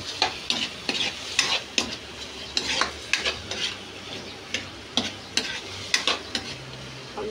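Onion frying in a pan for pinakbet, a close crackling sizzle punctuated by repeated sharp scrapes and clacks of a stirring spatula, with no talk.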